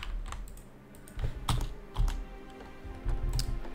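Computer keys pressed in scattered bursts while a player struggles with a glitching PC game, several clustered clicks and thumps close by with short pauses between, no talking.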